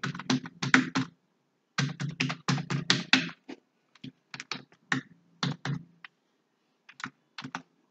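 Close, crisp keyboard typing as a login ID and password are entered, in several rapid bursts of keystrokes separated by short pauses, then sparser single taps, with no talking.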